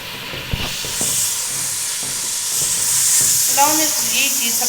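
Onions frying in a pot of water-started oil for chicken pulao, a steady close sizzle and hiss with a few stirring knocks, while a voice speaks over the cooking.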